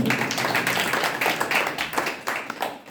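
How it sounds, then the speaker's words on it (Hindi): Congregation at a Hindu religious discourse clapping loudly for one another: brisk, dense applause from many hands nearby, uneven rhythm, with no talk over it. "सभी सुंदर साजी अपने अपने लिए खूब जोरदार तालियां बजाएं।"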